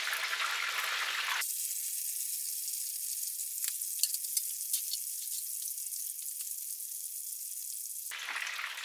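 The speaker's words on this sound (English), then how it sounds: "And then we continue frying that until it's all perfectly cooked, golden brown." Battered fish and chips frying in hot oil, a steady loud sizzle and crackle throughout with small pops, no voices over it.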